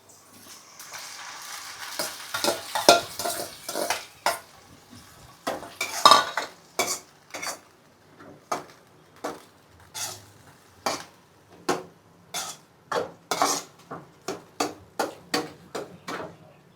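Soaked sour rice is added to buttermilk and stirred in a metal pot for a Gujarati khata bhat, a spoon scraping and clinking against the sides in a steady run of sharp, close strikes with no talk.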